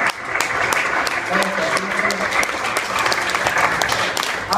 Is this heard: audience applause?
yes